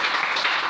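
A church congregation applauds, a brief dense wash of clapping heard steadily without pause.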